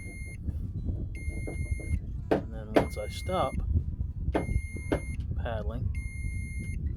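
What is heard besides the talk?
portable fish finder beeping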